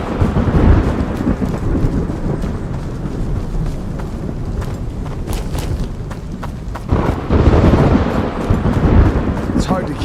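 Thunder booms and rumbles through a stormy game scene together with rain, loud and continuous with bursts of heavier crashes, and a person talks over it.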